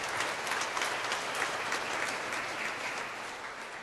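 A church congregation applauds loudly and steadily for the whole stretch, a thick wash of many hands clapping at once with no voices standing out.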